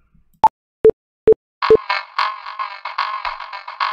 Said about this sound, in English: so that's the sound of the backing track playing in the background